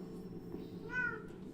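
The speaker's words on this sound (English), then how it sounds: "Who's meowing?" A cat meows once in a drawn-out, rising-then-falling call at mid volume, set against a steady low background hum with no talk over it.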